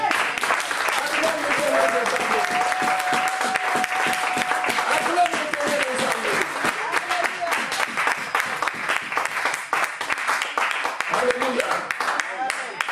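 A church congregation applauds through a worship service: dense, steady clapping from many hands fills the whole stretch at close range, with a raised voice or singing carried over it.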